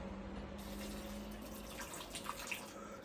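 Water pours steadily into a water dish inside a tarantula enclosure, a faint, continuous close trickle with a few light splashes near the end and no talk.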